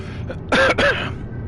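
A man gives a short throaty cough in two quick bursts, close to the microphone, over a low steady background hum.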